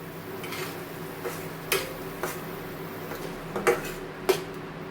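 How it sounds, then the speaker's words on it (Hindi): Masala being stirred and roasted in a pan over low heat, heard as a quiet steady background with a handful of sharp scattered clinks and scrapes of the spoon against the pan. "अब इसको अच्छी तरह से धीमी आंच पर मसाला को मैं भून लेती हूँ।"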